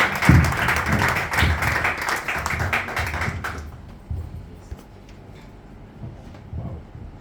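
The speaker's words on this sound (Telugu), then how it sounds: "వారు వస్తూ ఉండగా చప్పట్లు కొట్టి యేసయ్యకు కృతజ్ఞతలు" A church congregation in Abu Dhabi applauds to welcome Pastor Jeevaratnam. The dense, lively clapping lasts a few seconds, then fades into quiet room tone with a few scattered taps.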